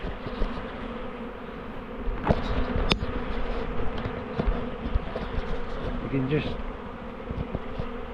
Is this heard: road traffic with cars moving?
no